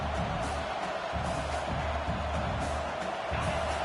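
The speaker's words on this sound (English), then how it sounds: "The roar of the crowd trying to fuel this defense to keep them pinned in their own end." Dense, steady stadium crowd roar from a football video game, a broad continuous wash of noise holding at even loudness from start to finish with no distinct voices standing out.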